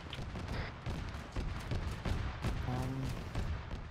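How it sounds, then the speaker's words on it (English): Mortar fire in the military video game Arma 3, with a steady barrage of overlapping booms and bursts that sound distant to mid-range and fill the whole stretch. "Mortars."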